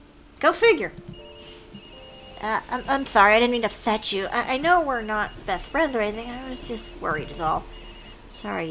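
A mobile phone rings in the horror adventure game Tokyo Dark, its electronic ringtone repeating steadily beneath continuous conversation between characters.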